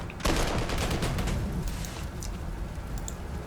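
A gunfire attack on artillery in the strategy game Panzer Corps 2: a sudden loud onset of rapid shots and blasts that rattles on densely, then thins into scattered pops and crackles.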